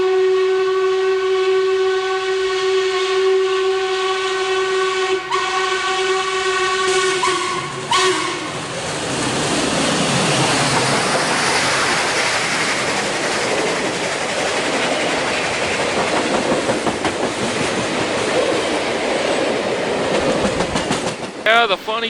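A train whistle sounds several long blasts, then a heavy locomotive roars and chugs loudly, laboring steadily as it climbs a grade in snow.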